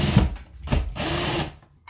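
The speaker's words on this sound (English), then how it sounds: "drilling holes for the anchors" A power drill bores holes for wall anchors while a battery-powered LED wall lamp is mounted, making a loud, close whirring buzz that rises and drops in bursts, with no speech.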